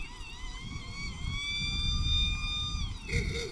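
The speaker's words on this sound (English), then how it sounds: "You hear that siren." A siren wails steadily with rising and falling tones, moderately loud over low rumbling traffic and outdoor noise at a rodeo, fading near the end.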